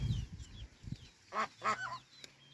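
A few duck quacks, two fairly loud calls close together and a softer one after, following low rustling and scuffing noises up close.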